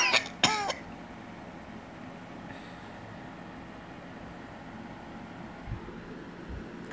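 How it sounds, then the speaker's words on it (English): A single sharp cough near the start, followed by a long stretch of quiet background rumble with a couple of faint low thumps. "Maybe that's a good luck cough."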